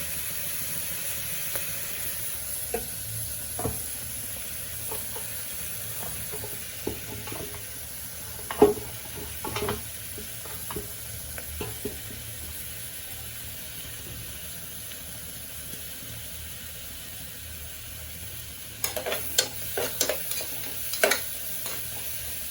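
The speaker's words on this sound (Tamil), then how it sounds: "ஆனியன் நல்லா வதங்கணும்." Onions sautéing in a pan for tomato kurma give a steady low sizzle, with scattered clicks and scrapes from stirring and a short burst of quicker scraping near the end.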